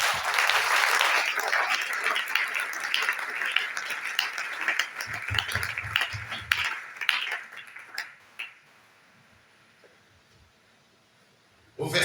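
A church congregation applauds at a Sunday service, with a dense burst of clapping that gradually thins and fades into near silence.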